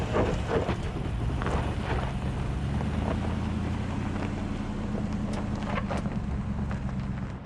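A 2021 Nissan Titan Pro 4x crawling off-road in four-wheel drive low, a steady low engine drone with rumble and wind noise throughout, close and continuous.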